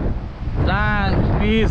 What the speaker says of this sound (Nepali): निकै चिसो हावा चलिरहेको छ